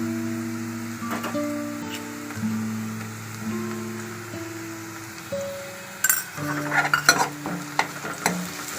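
Ginger garlic paste sizzles and fries in a pan for a mushroom curry, stirred with a utensil that clinks against the metal now and then, with the stirring growing busier and louder toward the end.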